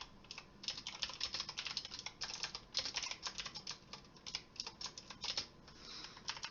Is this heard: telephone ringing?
no